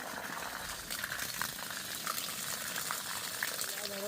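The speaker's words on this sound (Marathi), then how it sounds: "पण आम्ही आता पाणी घालतोय फार्म हाऊस वरती मस्त पाणी" Continuous splashing gush of water pouring steadily onto plants at a farmhouse, close by and fairly loud, with a faint voice in the background.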